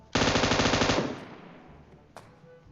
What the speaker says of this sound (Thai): โอ้ยทำไมแต่ละคนยิงกันเยอะจังวะ